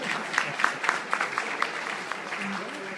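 Scattered applause from an audience at an IT forum, a thin patter of claps with some louder individual hits, fairly faint, with a voice breaking in.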